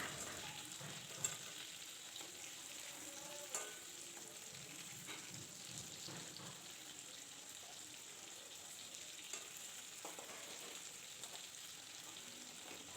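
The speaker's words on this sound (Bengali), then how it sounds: "আর তেলে দেখুন মাছ কিন্তু ডুবে যাচ্ছে" Hilsa fish pieces frying in a pan of plentiful oil, giving a steady, fairly quiet sizzle throughout with occasional small crackles and pops, no talking.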